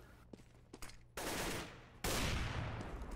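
In Counter-Strike, an AWP sniper rifle fires two loud, sharp shots about a second apart, each cracking in suddenly and trailing off, after a few faint clicks and light in-game sounds.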